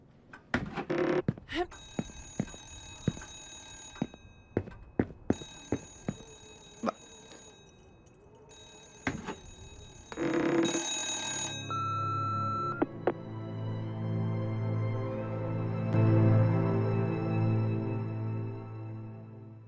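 Telephone ringing in the horror video game Remothered: Broken Porcelain, a series of sharp bell-like rings with clunks and thuds between them, followed by a sustained droning tone as the ringing stops.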